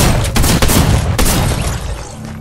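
Rapid gunfire in a shooting video game gun game, a dense loud burst of shots and booms that fades out toward the end, with no talk over it.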